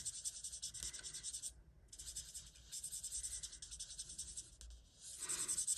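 Marker tip scratching and squeaking across paper during card-making coloring, in close, continuous strokes with short pauses between bursts and no talk.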